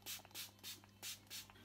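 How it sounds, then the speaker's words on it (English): Makeup setting spray misted onto a face in four short, quiet hissing bursts, evenly spaced, each a soft airy spritz with brief pauses between. "our last step is going to be setting the face with a setting spray."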